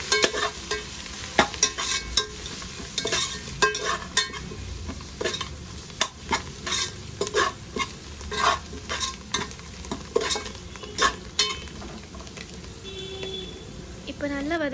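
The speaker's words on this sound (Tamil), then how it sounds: "இதையும் ஒரு 5 to 10 செகண்ட் போல் மிக்ஸ் பண்ணிக்கலாம்" Fresh coriander and mint stirred into vegetable biryani masala in a pan: a close, steady frying sizzle punctuated by frequent metallic spatula scrapes and clinks, a voice talking at times and a few faint beeps near the end.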